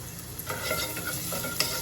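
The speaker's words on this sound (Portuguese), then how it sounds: "aqui eu vou fritar o alho" Garlic frying in lard in a pan on a stovetop, giving a steady close sizzle with occasional stirring scrapes and small crackles, with no talking.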